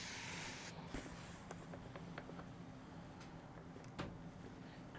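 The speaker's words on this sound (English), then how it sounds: "let's get that spray mister." A short hissing burst of water from a spray mister at the start, followed by faint soft handling sounds in a quiet room during garment sewing and pressing.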